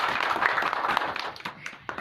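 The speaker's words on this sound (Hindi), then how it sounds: "अपने लिए जोरदार ताली।" Loud congregation clapping at a church praise gathering, a dense burst of many hands with a few sharper taps standing out near the end.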